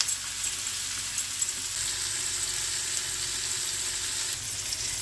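Tomato for beetroot upma cooks in a pan over a medium-to-high flame, giving a steady, moderate sizzle with a few faint stirring knocks and no voices.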